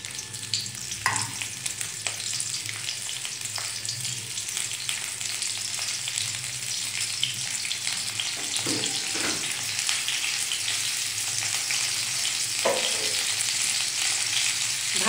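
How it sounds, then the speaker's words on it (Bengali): Cauliflower pieces fry in hot salted oil in a pan, a continuous loud sizzle with occasional stirring scrapes and soft clatters, no voices. "তেল গরম হয়ে গেছে, কপিগুলো দিয়ে দিচ্ছি একসাথে।"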